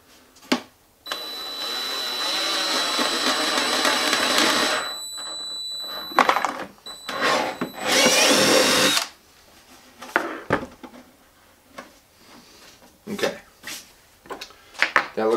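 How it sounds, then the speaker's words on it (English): A power drill fitted with a 1/2-inch bit whines in two close, loud bursts, with clattering handling noises and brief talk in the pauses between them. "This is a 1/2-inch drill bit."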